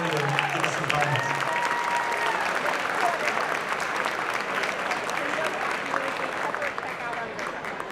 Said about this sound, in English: Let's have a warm round of applause for Dr. Brian Gottardy, who will come forward here to give us some comments.